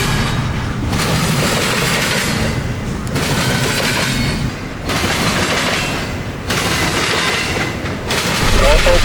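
A Norfolk Southern freight train rolls past close by, a continuous loud rumble of wheels and cars with periodic clanking as each car goes by.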